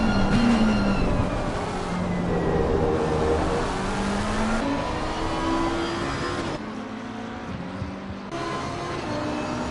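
A McLaren race car at Kyalami in Assetto Corsa Competizione, its engine note rising and falling through gear changes as it accelerates, loud and continuous with other cars' engines mixed in.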